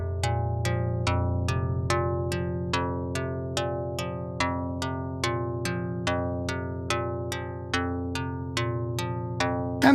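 Mutable Instruments Rings module plays a simple four-step synth sequence as a steady, repeating run of plucked, bell-like resonant notes over a sustained low drone, with no voices.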